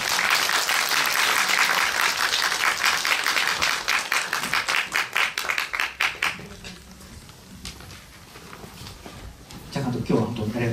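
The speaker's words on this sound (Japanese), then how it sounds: "皆さん拍手でお迎えください。" An audience at a film screening event claps to welcome a guest film director, dense applause that thins into scattered individual claps, fades out, then gives way to talk.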